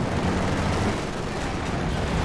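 A T-34 tank fires in a competitive World War II strategy video game match, amid a dense, continuous wash of battlefield gunfire and explosions at steady loudness for a couple of seconds, with no distinct single shot standing apart.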